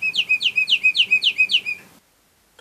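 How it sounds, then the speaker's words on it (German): A woodlark sings a series of six clear, descending whistled phrases in quick, even rhythm, fairly close and prominent over quiet background, then falls silent. "Das ist die Heidelerche."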